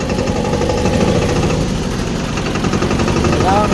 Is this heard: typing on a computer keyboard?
no